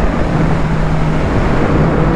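A 2021 Yamaha MT-09 SP motorcycle engine hums on the move, a steady low drone blended with broad road and wind rush, loud and continuous with no talking.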